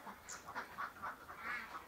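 Laying ducks on a farm quack in a quick run of short, nasal calls, several birds overlapping at a moderate distance with no voices.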